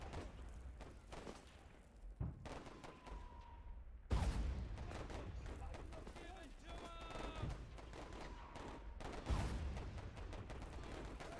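Mortar strike in a WW1 battle game, with distant rumbling booms and scattered gunfire spread through a long, busy stretch of battlefield noise, and someone talking over it.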